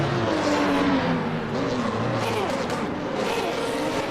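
Several Porsche GT race cars in Le Mans Ultimate roar past close by, their engines revving and shifting in a dense, continuous wash of racing noise with no speech.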